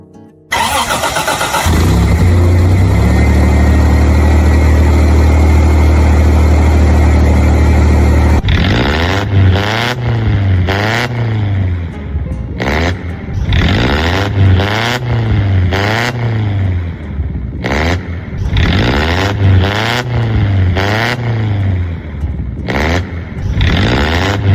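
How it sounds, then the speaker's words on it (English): A 1984 Toyota 4Runner modified to off-road spec cranks and starts, then settles into a loud idle. After that come a series of sharp, repeated revs that rise and fall, each burst followed by a return to idle. "Now let's listen to the engine once."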